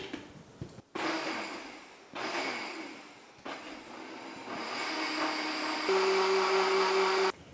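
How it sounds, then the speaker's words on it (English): A blender runs in loud, close bursts while mixing water, vegetable broth, agar-agar and xanthan gum, cutting out briefly between pulses before a steady whirring stretch with a rising whine near the end. "make sure that you use blender for this recipe"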